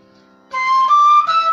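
A bansuri flute blown strongly gives a bright, sharp, sustained high tone that rises in pitch across a few held notes, loud and close, heard alone after a quiet start.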